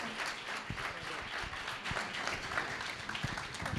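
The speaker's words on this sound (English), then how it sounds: "Can I give Jessica a round of applause?" Moderate applause from a small audience at an interview event at the Mission Inn, steady clapping with a few sharper individual claps, faint voices underneath.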